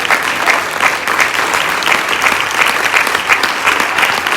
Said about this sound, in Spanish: Denle un fuerte aplauso si le quiere dar a Él.